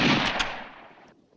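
A single sharp gunshot in a western shootout, loud and close, with a short echoing tail that fades within about a second.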